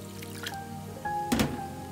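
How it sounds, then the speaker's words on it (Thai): Cloudy water left from washing rice pours into a container with a short splash and trickle against a low background hum. "เทน้ำซาวข้าวใส่ค่ะ"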